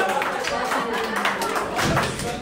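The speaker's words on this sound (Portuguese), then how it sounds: "Uma salva de palmas para ele." An audience at a lively outdoor live show in Interlaken gives a brief burst of clapping, mixed with voices talking over it.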